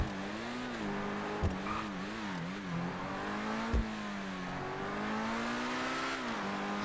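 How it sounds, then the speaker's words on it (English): Fast car driving in GTA V Online, its engine a steady mid-level drone that rises and falls with shifting revs, broken by two brief sharp thumps, with no talk over it. "It's a nice, very fast car"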